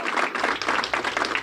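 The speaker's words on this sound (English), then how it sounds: "give both of them a big round of applause" Crowd applause at a ceremony renaming a local mental health facility after a historic figure, a dense steady wash of many hands clapping throughout, fairly close and without talk.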